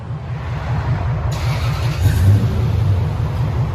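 A 2004 Lexus GX470 4.7L V8 with a Flowmaster Delta 50 Series exhaust revs up from a low rumble, swelling to a deep, steady drone heard up close without talk.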